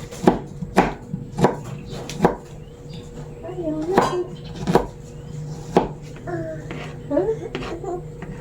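Garlic chopped with a knife on a board, a run of sharp, close taps at an uneven pace with a pot clanking now and then, while people talk over it.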